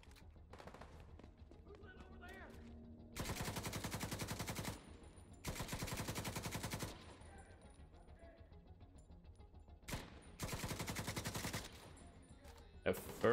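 Automatic rifle fire in The Division 2, several sustained bursts of rapid shots separated by quieter gaps, with a final short burst near the end.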